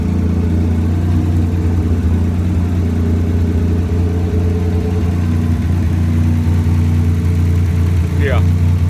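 A Buick Grand National with a washer-modified exhaust dump idles loudly and steadily in a deep, continuous rumble throughout, with a person talking over it.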